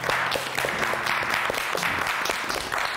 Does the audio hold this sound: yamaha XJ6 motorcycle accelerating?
no